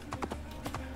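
Hooves of a horse in Assassin's Creed Origins clip-clop in two quick clusters of sharp, close strikes over a steady background hum.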